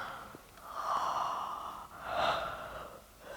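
During a yoga stretch, a person gives two long breathy exhalations like a soft, audible yawn, close and quiet, with no talking.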